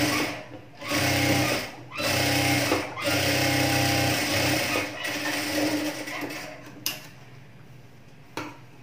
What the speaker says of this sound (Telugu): ఇక్కడ ఒక కుట్టు వేసుకోండి